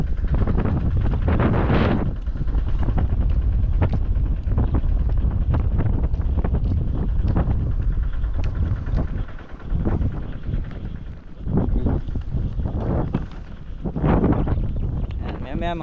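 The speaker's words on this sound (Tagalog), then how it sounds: "Lakas na naman ang hangin pagkahapon." Strong afternoon wind buffets the microphone outdoors, a heavy, continuous low rumble with gusting surges that nearly never lets up, while a person talks underneath it.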